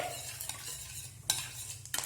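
Cinnamon fries in hot oil with whole spices for a chicken dish, making a quiet, soft sizzle punctuated by a few brief scraping stirs.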